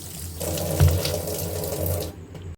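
A kitchen tap runs steadily into a sink while fish are washed under it, a close continuous splashing rush that cuts off near the end, with no talking.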